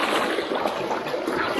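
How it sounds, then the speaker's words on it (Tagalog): A strong river current rushes past, a loud, close, continuous wash of broadband water noise over a short moment with no voices. "Ang lakas ng agos."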